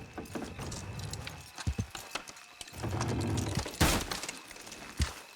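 Horse hooves clip-clopping at a steady walking pace in Red Dead Redemption 2, a series of close, fairly quiet thuds with a few sharper knocks, no voices.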